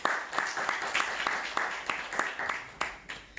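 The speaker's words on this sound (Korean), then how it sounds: "우리 박수로 환영하도록 하겠습니다" Applause at a church service greets a guest speaker, steady rhythmic clapping from a gathered congregation at moderate volume, with faint voices mixed in.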